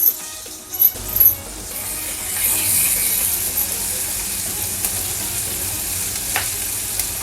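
Onions dropped into hot butter with cumin in a pan, a few clinks and taps at the start and then a steady, close frying hiss that carries on without talk.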